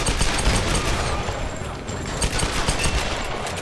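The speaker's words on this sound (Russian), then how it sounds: "В дым прям стреляю, прям даже не смотрю" Rapid gunfire from the player's weapon in the Tomb Raider video game, a dense, continuous fusillade of loud close shots with a thin high whine running through part of it.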